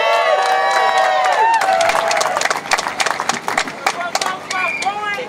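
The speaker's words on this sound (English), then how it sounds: "Give yourselves a round of applause" A crowd at a 2022 May Day march rally in San Francisco claps and cheers with whoops and shouts, the applause dense at first and then thinning into scattered claps.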